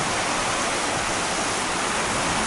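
Steady broadband rush of a river's water flowing along the Appalachian Trail, a constant close wash of running water with no pauses and no voices.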